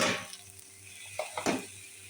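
Peas tipped into a hot pan of fried potatoes and cooked-down spices, a steady close sizzle with a few louder bursts and stirring scrapes as they land.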